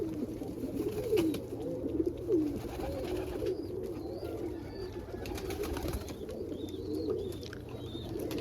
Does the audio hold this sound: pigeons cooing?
yes